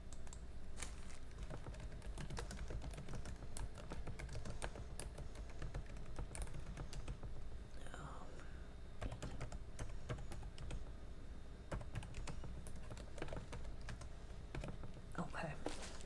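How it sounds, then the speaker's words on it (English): Steady typing on a computer keyboard fills the stretch with quick, uneven clicks and taps at close range and moderate volume, with faint speech-like sounds mixed in. "Let me type that in."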